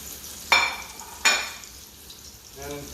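Zucchini frying in a pan, two sharp, close bursts of sizzle as pieces hit the hot oil, each fading quickly, followed by a softer sputter over a low background hum.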